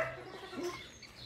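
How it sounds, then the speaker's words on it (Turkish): An ocellated turkey calls with a short, quiet burst of fowl-like vocal notes over soft background noise, lasting just over a second. "Diğer adıyla tavus kuşu hindisi."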